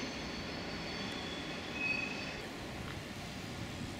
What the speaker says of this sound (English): There's the number 15 tram.